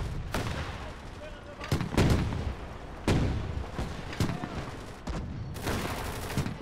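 Rocket artillery strikes in the video game Gates of Hell, a German combined-arms battle crossing the Dnieper: repeated loud booming impacts and bursts of fire at irregular intervals, rumbling between hits with no talk.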